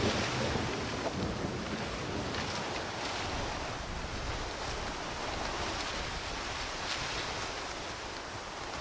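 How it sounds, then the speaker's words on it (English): Continuous broadband rain and rumbling weather in the video game S.T.A.L.K.E.R. 2: Heart of Chornobyl, a dense steady wash with low thundery rumble, fairly faint and unbroken, with no voices. "I leave the house for 5 minutes and it starts raining"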